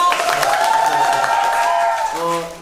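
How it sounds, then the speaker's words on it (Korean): Theater audience applause at a curtain call for the musical Black Suit, a busy spread of clapping and cheering under a loud voice talking and calling out, fading toward the end. "박수 주세요!"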